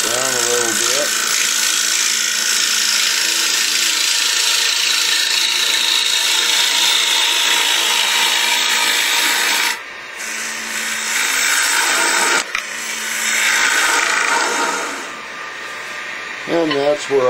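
Wood bowl being thinned on a lathe, the cutting tool producing a steady, loud scraping whir against the spinning blank, broken by brief pauses near the end as the tool lifts off, with a voice speaking in places.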